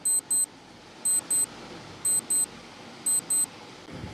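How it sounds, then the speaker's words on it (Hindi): A countdown timer beeps in quick pairs, each pair repeating about once a second, with four double beeps sharp and loud over quiet background hiss. "टाइमर आपकी स्क्रीन पर है साथियों।"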